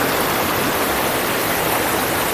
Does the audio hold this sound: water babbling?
yes